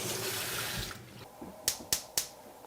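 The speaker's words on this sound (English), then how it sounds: "First, we need to wash our hands." A tap runs for hand washing, giving a steady, hissing splash of water close by for about a second. It stops, and three sharp clicks or snaps follow in quick succession.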